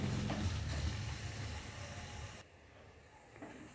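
Chopped garlic and ginger fry in a pan with a steady, quiet sizzle and hiss that drops off sharply partway through.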